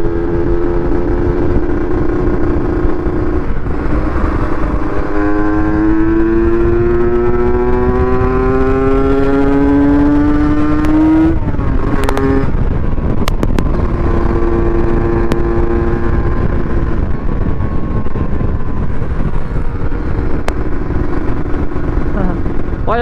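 Kawasaki Ninja RR motorcycle ridden on a road, its engine droning loud and steady with rising pitch as it revs up through the gears, then settling and climbing again.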